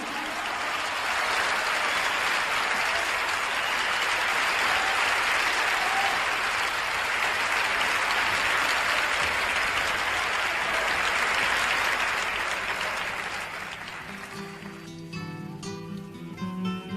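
Sustained audience applause fills a Chilean Canto Nuevo webinar for about fourteen seconds, dense and steady, then fades out as music begins to come through.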